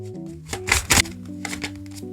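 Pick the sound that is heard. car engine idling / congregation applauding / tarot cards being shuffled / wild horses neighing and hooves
tarot cards being shuffled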